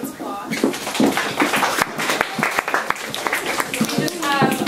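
Audience members clapping for themselves at a toastmasters-style evening gathering, scattered claps and cheers mixed with overlapping talk and voices, moderately loud and busy.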